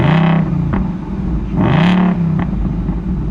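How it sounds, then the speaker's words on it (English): A 2022 Ford Mustang with factory active exhaust revs up, settles and revs again: two loud, rising engine pulls with a deep rumble, heard close by. "These cars sound pretty good. Active exhaust from the factory."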